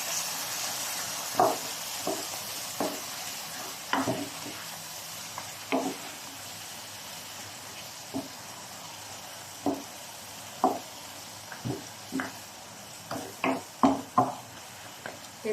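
Tomato paste being stirred into kabsa meat in a sizzling pot, with a steady fry hiss under repeated scraping strokes of a spoon, some sharp and close.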